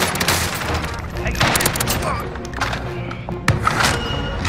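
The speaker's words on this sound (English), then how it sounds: "Somebody done got a shotgun!" Dense bursts of gunfire and shotgun blasts in the video game Warzone during a tournament match, rapid overlapping shots loud and close with a few sharper booms, voices talking over the shooting.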